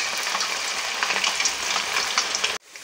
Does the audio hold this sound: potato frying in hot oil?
yes